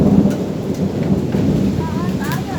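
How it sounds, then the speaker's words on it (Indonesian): Hail falls in a storm in a village in Cianjur, West Java, a dense steady roar of ice striking surfaces up close, with faint distant voices near the end. "Ini ya, hujan es ya."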